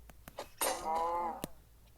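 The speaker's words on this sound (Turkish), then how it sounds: "Aman baltamız kırıldı." An axe breaking in Minecraft Pocket Edition: a short crunchy breaking effect with a ringing, tinkling tail, set between faint clicks and taps.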